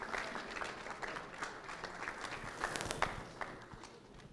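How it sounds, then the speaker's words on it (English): Faint, scattered clapping from a small group at an early-morning leadership gathering, uneven and thinning out, with a few sharper individual claps. "So give yourselves a round of applause."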